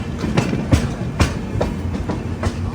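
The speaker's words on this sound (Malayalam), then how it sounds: "കണ്ണൂർ റെയിൽവേ സ്റ്റേഷനിലേക്ക് നമ്മുടെ ട്രെയിൻ എത്തിക്കൊണ്ടിരിക്കുകയാണ്." The Rishikesh Express rolls into Kannur railway station, its wheels clicking over rail joints in a steady clickety-clack rhythm at close range, alone without talk.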